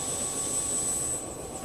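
A helicopter engine drones steadily in the background, a continuous, even whine and hum with no talking over it.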